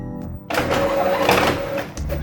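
An Epson printer starts up after power cleaning and runs a page through with a steady mechanical whir and faint clicks, loud and close, briefly pausing near the end.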